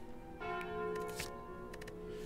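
A bell relic is picked up in the video game Slay the Spire, ringing out with a sustained resonant church-bell tone and a few bright chime accents, heard alone.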